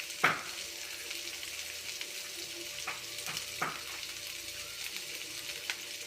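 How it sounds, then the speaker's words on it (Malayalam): Chopped garlic, a green chili and sliced shallots fry in a pan with a soft, steady sizzle. A sharp spatula knock comes early, and a few lighter taps follow. "അതൊന്ന് നല്ലപോലെ ഫ്രൈ ആയിട്ട് കിടക്കാം"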